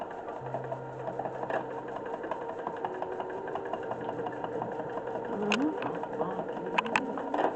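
A domestic sewing machine runs at speed during free-motion quilting, a close mechanical whir with fast rhythmic needle ticking that shifts in pace, with a voice talking over it.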